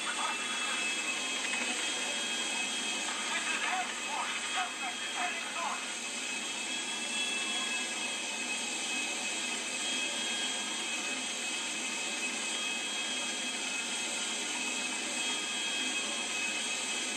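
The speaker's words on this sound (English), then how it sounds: "For once, I actually got a plane, and I'm probably going to get shot down in a minute." Steady airplane engine drone in GTA V, a constant loud hum and roar sustained throughout with a brief flutter of other noise early on.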